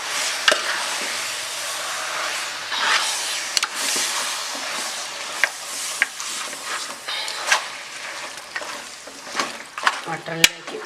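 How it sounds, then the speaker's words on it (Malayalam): Mutton and masala sauté in a pan for Malabar mutton curry, giving a steady, close sizzle and hiss broken by scraping stirs and occasional spoon knocks against the pan, with no voices. "മട്ടണിലേക്ക് ഈ മസാല എല്ലാം ഒന്ന് നന്നായിട്ട് പിടിച്ച് വരുന്നതാണ് ഒന്ന് വഴറ്റി കൊടുക്കാം."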